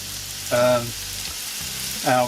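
Tomato puree and paste sizzling in a paella pan on a small kamado, a steady frying crackle with two brief louder bursts as the paste hits the hot pan and is stirred.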